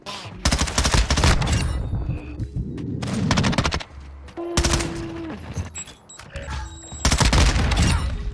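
Rapid bursts of MP5 gunfire in a first-person shooter game, loud and close. Clusters of sharp shots come in short volleys separated by brief pauses, and a voice speaks between them.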